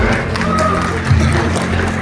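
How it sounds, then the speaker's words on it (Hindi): A seminar audience in Lucknow gives a sustained round of clapping for Captain Hamid Prakash Sharma, a steady dense patter that fills the room, with a slight swell near the middle. "एक बार जोरदार तालियां हो जाए for Captain Hamid Prakash Sharma"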